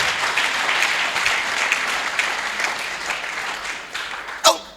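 Church congregation at a Pentecostal service applauding steadily, a dense wash of clapping throughout with a sharper burst near the end.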